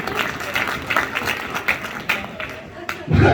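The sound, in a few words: audience applause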